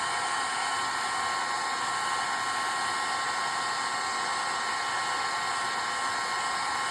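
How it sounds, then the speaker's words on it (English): Steady, loud broadband whoosh of a heat gun blowing hot air onto copy paper, a constant rushing hiss with a faint motor whine, continuous throughout with no talk. "we're going to go ahead and hit this with the heat gun"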